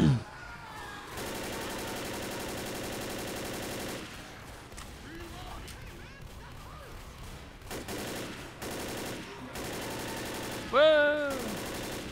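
Bursts of rapid automatic gunfire from the zombie game Left 4 Dead, sustained rattling volleys with short gaps between them, loud and close, ending in a sharper flurry of shots.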